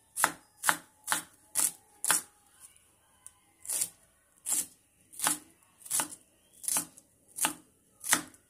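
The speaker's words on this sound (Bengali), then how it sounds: "পেঁয়াজটা বেশি ছোটও না আবার বেশি বড়ও না, মিডিয়াম সাইজ পিস করে করে কেটে নেব" A single onion is chopped into medium pieces on a board, about fourteen crisp knife strikes in an even, unhurried rhythm, close and clear with a short pause partway through and no talking.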